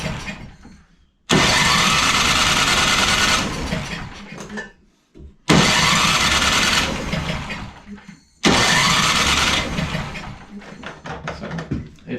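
A Craftsman 42-inch snowblower with an 8.5 HP Briggs engine and electric starter cranks loudly in three long bursts of several seconds each, separated by short pauses, and the engine never catches.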